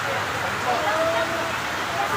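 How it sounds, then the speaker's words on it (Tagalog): Heavy rain pouring down at a bagsakan produce market, a steady dense hiss filling the scene with no let-up, close and loud, while a voice speaks over it. "Napakalakas pa rin po ng ulan."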